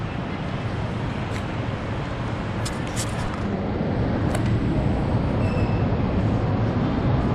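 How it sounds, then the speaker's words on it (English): A train passes at a station in Hong Kong, heard as a continuous heavy rumble that swells slightly as it goes on, with brief metallic squeaks on top and no talking. "That's the train"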